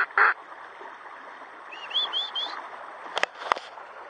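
A mother duck calls with a few short quacks and chirpy calls near water, with a burst of noise at the start and a couple of sharp knocks near the end, no talk.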